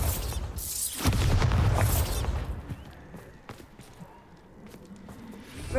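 The Bombarda spell goes off in the video game Hogwarts Legacy with a loud, close booming blast that rumbles and then fades into debris crackle and scattered sharp pops.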